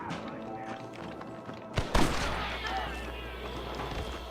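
A gunshot booms in the Western video game Red Dead Redemption, one loud sharp report followed by a lingering rumble, with speech around it.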